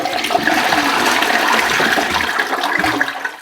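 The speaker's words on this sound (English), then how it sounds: "I've just started with that flush." A concealed toilet cistern flushes with a loud, continuous rush of water that runs for the full few seconds before it begins to tail off.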